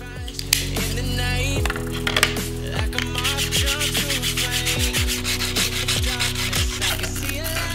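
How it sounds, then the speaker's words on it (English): Sandpaper rubbing over a 3D printed Rick Sanchez figure printed on a Creality CR-10, smoothing out surface imperfections before painting; steady close scratchy strokes repeat in a continuous rhythm under a background music bed, with no talking. "grit sandpaper, smoothing all that out because I'm not sure how well the paint will cover the imperfections"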